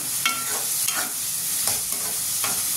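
Ginger and garlic pieces frying in a pan, a close steady sizzle broken by a spoon scraping and stirring in brief repeated strokes, with no voices.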